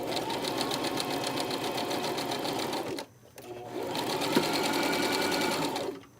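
A sewing machine runs a test zigzag stitch on knit fabric for an infinity scarf, a fast, even motor whir with a rhythmic needle pulse, stopping briefly near the middle before starting up again and running to a halt, close and clear.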